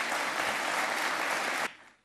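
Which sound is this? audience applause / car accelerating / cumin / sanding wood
audience applause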